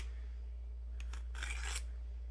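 A handheld tool sharpener rasps against a scissor blade in a few short, quiet strokes that come close together, following a stretch of near silence with a low hum underneath.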